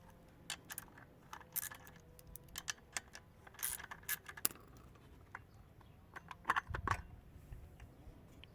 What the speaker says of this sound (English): Let's remove the chain tensioner and take a look beneath it.